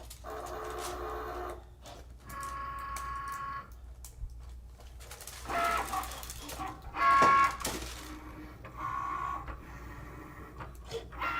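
A Cricut cutting machine works through foiled card stock nearby, making intermittent whirring and mechanical carriage movements broken by short pauses and brief clicks.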